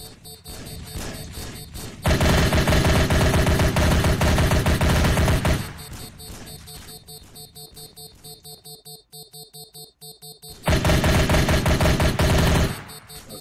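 AK-47 rifle fire in a video game comes in two long, loud, rapid automatic bursts separated by a quieter stretch of ambient noise and ticking, with no one speaking.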